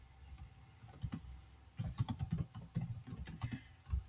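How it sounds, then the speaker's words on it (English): Keys clatter on a computer keyboard as a command is typed, irregular bursts of crisp close clicks with brief pauses, moderately loud in a quiet room without speech. "I'll just type it here."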